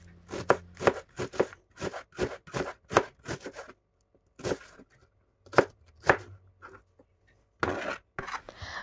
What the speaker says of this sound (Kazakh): Ең бастысы пияз аламыз және де майда етіп турап аламыз